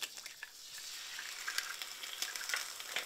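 Eggs fry in butter in a pan, a soft, steady crackling sizzle with small popping spits, faint and close, with no voices.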